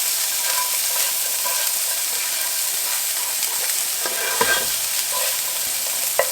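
Spicy Italian sausage and jalapeños sizzle steadily in a pan while being stirred, a continuous close frying hiss with occasional scrapes and clicks of the utensil, no voices.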